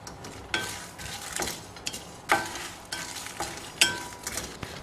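Red chillies, urad dal and chana dal dry roasting in a pan, with repeated scraping stir strokes every second or so over a soft rustling crackle, close and fairly quiet.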